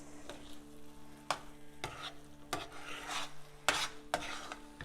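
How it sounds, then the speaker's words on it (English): Cashews and raisins stirred into pineapple kesari in a pan, a spoon scraping through the thick semolina sweet in several sharp, uneven strokes over a steady low hum, with no talking. "Add the cashews and the raisins and then mix well."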